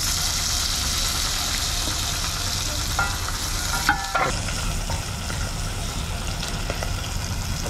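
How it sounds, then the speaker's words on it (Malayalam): Shallots and onions frying with spices in a pan for a village-style mutton curry, a steady loud sizzle with occasional stirring scrapes and clinks. "എന്നിട്ട് നമുക്ക് അതിലേക്ക് കുറച്ച് ഒരു ഏഴെട്ട് ഉള്ളി, അയ്യാത്ത ഉള്ളിയും, കുറച്ച് സവാള ഇടുക."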